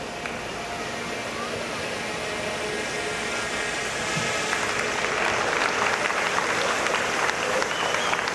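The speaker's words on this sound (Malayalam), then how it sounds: "കയ്യടിയോടുകൂടി ഈ കൊച്ചു മിടുക്കനെ, ഈ സംഗീത പ്രതിഭയെ നമുക്ക് പ്രോത്സാഹിപ്പിക്കാം" An audience claps for a young musician, with faint hall noise at first and then dense applause building louder and more crowded toward the end.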